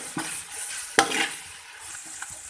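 Onion, ginger and garlic frying in a pan give a soft background sizzle broken by a few sharp scrapes and taps of a spoon stirring the pan.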